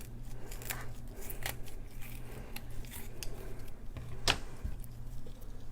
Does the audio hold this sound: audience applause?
no